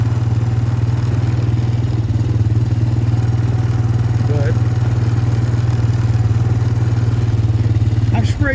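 A 2007 Honda Recon ES ATV runs steadily in third gear on a farm field, its engine giving a constant loud, close drone with light mechanical clatter throughout.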